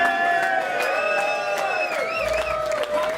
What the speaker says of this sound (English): Give a massive round of applause for our little rabbits.